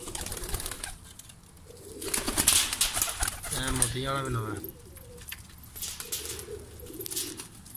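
Newly bought pigeons coo on a rooftop, a rolling burst of throaty cooing near mid-clip among softer bird sounds, while someone talks over and between them.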